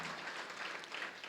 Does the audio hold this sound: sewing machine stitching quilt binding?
no